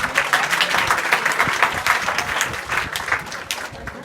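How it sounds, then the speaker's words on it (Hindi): Applause from a school audience at an inter college event for a girl named Neha, dense and steady clapping throughout, loud and close with no voices over it. "नेहा के लिए जोरदार ताली।"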